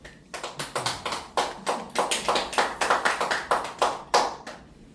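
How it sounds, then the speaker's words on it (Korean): Scattered audience clapping in a church forum gathering, a loose run of distinct hand claps of uneven rhythm, fairly close and moderately loud, alone without talk, ending in a few last claps. "박수 쳐주세요."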